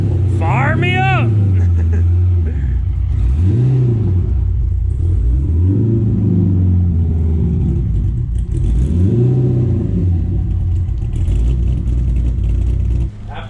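A supercharged drag car engine started and idling loudly, a deep rumbling idle with periodic rising and falling revs, close by; a person's exclamation is heard briefly near the start.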